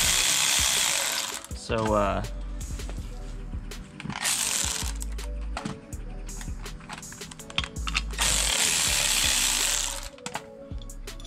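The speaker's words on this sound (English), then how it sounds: "Let me pull these bolts off" Ratchet clicking in short bursts while bolts come off the turbocharger of a 1991 Suzuki Every Joypop kei van, heard close up among clanks of tools, with someone talking intermittently over the work.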